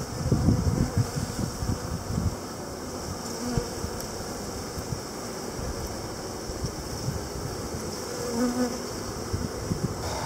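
Honey bees buzzing as they are placed into a five-frame nuc box, a dense continuous hum close to the microphone with a few louder passes and some wind noise.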